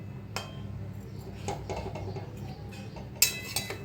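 Fish pieces slowly lifted from a pan of Assam-style fish curry, a utensil clinking faintly against the metal pan a few separate times over a low kitchen hum.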